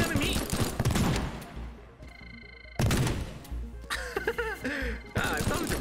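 Robots firing weapons in the video game Teardown: bursts of rapid gunfire and heavy thuds come in clusters, with a brief quieter electronic tone between volleys and a person talking at times.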